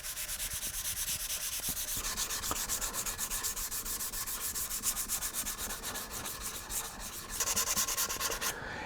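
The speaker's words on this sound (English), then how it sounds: "I want to try to sand in the direction of the grain" A wooden guitar neck on a neck-through build is sanded by hand with 320 grit sandpaper, making continuous rhythmic rubbing strokes close to the listener with no talking.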